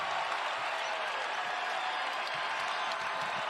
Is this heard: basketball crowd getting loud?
yes